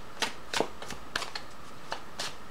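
Tarot cards shuffled by hand, a handful of crisp, close riffles and slaps in an uneven rhythm, heard on their own without speech.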